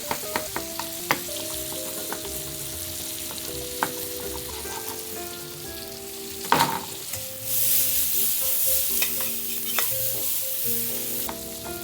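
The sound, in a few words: searing tomatoes with capers and chopped garlic in a pan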